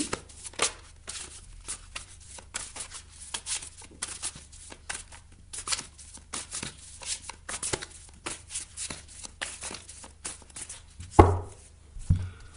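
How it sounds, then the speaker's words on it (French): A deck of tarot cards being shuffled by hand, a long run of quick riffling and flicking bursts at close range, steady and soft, with a brief louder knock near the end and no speech. "Je mélange le jeu."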